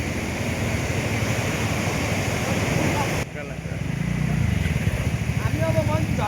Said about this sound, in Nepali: यो चाहिँ हाम्रो टक्क त्रिशुली खोला भइहाल्यो